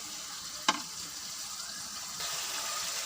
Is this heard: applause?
no